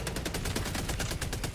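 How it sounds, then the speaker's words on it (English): A cannon support weapon in a co-op shooter video game fires a rapid, steady string of loud, close shots, about a dozen in quick succession with no pauses. "There's your cannon."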